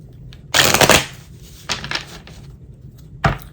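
Tarot cards riffle in a loud burst, followed by two shorter shuffling bursts, close and crisp, no voices.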